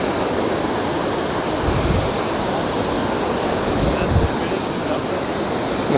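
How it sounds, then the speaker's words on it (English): Montmorency Falls in Quebec City roars as a constant, loud broadband wash of falling water, steady and unbroken with faint low rumbles, no voices present. "And apparently this waterfall is at its strongest"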